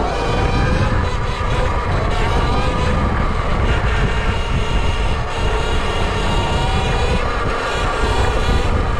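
An eRide Pro SS electric dirt bike rides fast outdoors, with a continuous loud roar of motor whine and wind rush that holds steady throughout.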